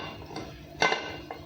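A metal pressure cooker pot holding chicken stew is handled, giving a few light clinks and one sharper metallic knock, close and brief against a quiet kitchen background.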